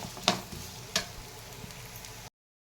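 Onions frying in a pan give off a quiet, brief sizzle, with two sharp clicks near the start over a low, steady crackle.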